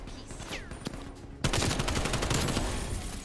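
In a video game, an AK-74U with a drum magazine opens up in a sudden loud burst of rapid automatic fire after a quieter stretch of distant shots.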